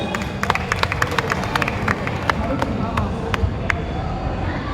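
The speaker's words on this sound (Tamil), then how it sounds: "உங்களுடைய கைத்தட்டல் உற்சாகமா கொடுத்து குழந்தைங்களை வரவேற்பீங்கன்னா இன்னும் நல்லா இருக்கும்." An audience welcomes children performing Bharatanatyam with loud, steady applause, dense rapid claps over a murmuring crowd.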